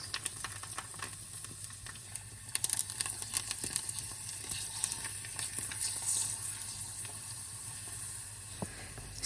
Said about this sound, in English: So I only fry about 30 pieces of this tapioca flour vegan crackers